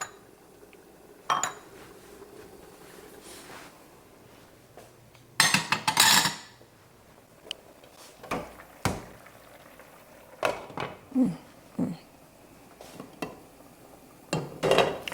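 Dishes and cutlery clatter and clink in a home kitchen during cleanup while cooking steamed fish and turned cornmeal, with scattered sharp bursts and one loud rattling clash, close and alone without talk.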